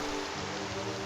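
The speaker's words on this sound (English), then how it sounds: "It's raining, so perfect." Rain falling in Minecraft survival, a dense steady patter that fills the short stretch at even loudness, with no voices.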